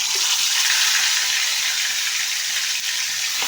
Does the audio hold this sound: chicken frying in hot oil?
yes